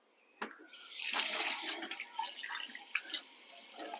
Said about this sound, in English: So give your hands a good wash.